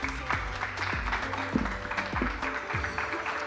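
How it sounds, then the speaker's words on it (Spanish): A church forum crowd claps steadily, a dense patter of applause with some louder individual claps and low rumbling underneath. "Vamos a darle un fuerte aplauso a Dios"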